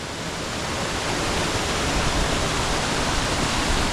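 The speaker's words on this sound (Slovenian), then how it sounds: "Smo v bližini slapu Šengergi, da ga vidimo." Šengergi waterfall in Albania by a red rock face, its water pouring in a dense, continuous rushing roar, loud and near, with no talking over it.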